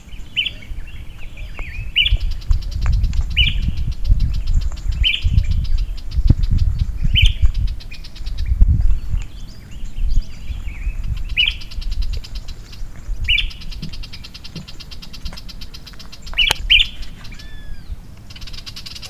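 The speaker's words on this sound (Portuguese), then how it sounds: "Os pássaros ficavam cada vez mais estressados." Stressed birds calling repeatedly in the wild, loud close squawks and chirps recurring every second or so over a low rumbling background, with no talking.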